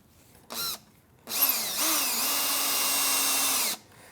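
A power drill drives screws into a wooden EXO chair pedal: a short whir, a pause, then a longer steady high-pitched motor whine close by that stops abruptly.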